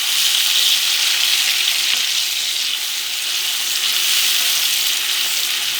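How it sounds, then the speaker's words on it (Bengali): Katla fish korma masala with chopped tomato and a little sugar fries in a pan, giving a loud, continuous, close sizzle with soft stirring scrapes mixed in throughout. "খুব ভালোভাবে নাড়াচাড়া করে নিতে হবে।"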